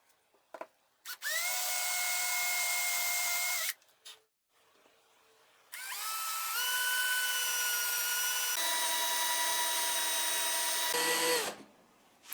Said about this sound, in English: So I could first make a 4mm hole just a little less in depth than these plastic pins of the jig.